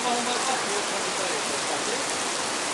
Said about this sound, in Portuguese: É a chuva em Guajará Mirim